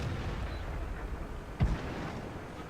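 One heavy tank cannon shot fires in World of Tanks, a single sharp boom over a low rumbling engine and battle background.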